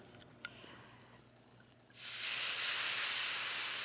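Wine hits a very hot pan and bursts into a loud, steady sizzle after a quiet start, the hiss holding strong and close until the end with no talking.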